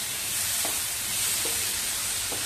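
Pumpkin sautés with coriander in a pan, a steady close sizzle and hiss of frying broken by a few soft stirring scrapes at regular intervals, with no talk.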